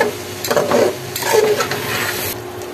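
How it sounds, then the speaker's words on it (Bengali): Rice, lentils and spices for khichuri frying in a pot, with a steady close sizzle and bursts of scraping as a spoon stirs the mixture two or three times. "এবার চাল ডাল মশলার মধ্যে একটু ভেজে নেব।"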